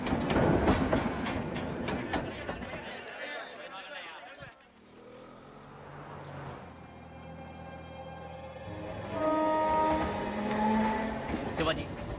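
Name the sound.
train arriving and running on rails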